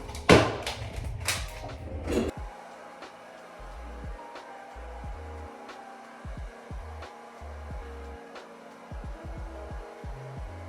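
A hair dryer with a diffuser runs on short 3B/3C curls, giving a steady low whir. Its hum is broken by repeated muffled bumps and on-off throbbing, with a few louder handling noises at the start.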